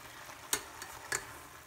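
Shrimp and fish sautéing in a pan for a seafood lasagna make a low, steady sizzle, broken by two short clinks of a utensil against the pan.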